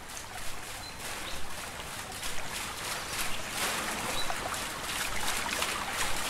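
A flowing river and a working watermill in a medieval RPG game, heard as a steady rushing, trickling wash of water with a faint rhythmic churn and occasional bird chirps, with no talking.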